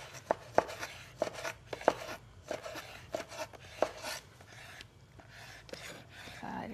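Squid being sliced into thin strips with a knife for a braised squid-and-radish dish: a steady run of roughly a dozen crisp, quiet cuts against a board at an even rhythm, close and alone.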